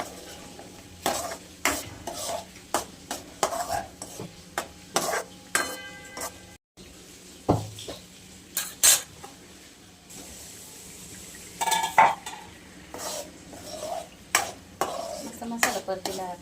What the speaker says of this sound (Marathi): मसाला मस्त परतू देऊया.